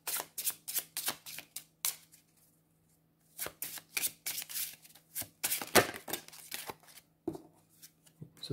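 A deck of oracle cards is shuffled by hand nearby in quick, papery riffling bursts, with a brief pause partway through before the shuffling resumes even more busily.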